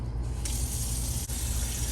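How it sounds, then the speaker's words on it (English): Water running from a tap into a sink in a home kitchen during cake baking: a steady, broad rushing gush that stays close and even throughout, with no talk. "You want to put some water in this sink over here?"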